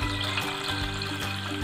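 Water is poured into spiced pani puri water to dilute it, a steady splashing stream into a vessel that runs continuously at moderate level.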